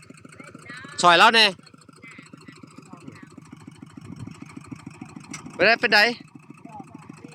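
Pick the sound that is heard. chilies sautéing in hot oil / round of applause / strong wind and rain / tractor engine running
tractor engine running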